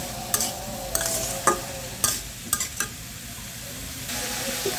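Cucumber is sautéed in a pan without water, a soft continuous sizzle punctuated by several sharp clinks and scrapes of a utensil stirring, close and without speech.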